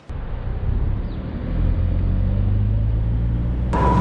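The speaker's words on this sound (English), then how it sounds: "All right, driving the XC60" A 2024 Volvo XC60 Black Edition cruises along the road, with steady low engine and road rumble inside the cabin that swells slightly partway through and a brief sharper noise at the end.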